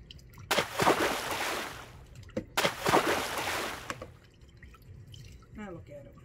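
A plastic or vinyl action figure is dunked and swished in a small tub of hot water to wash off dust and dirt, making two close bursts of splashing and sloshing, then quieter drips.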